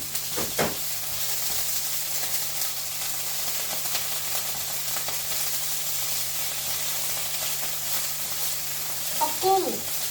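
Prawns sizzle in a wok with garlic and shallots while pad thai is cooked, a steady close frying hiss with a few stirring scrapes and a short voice near the end.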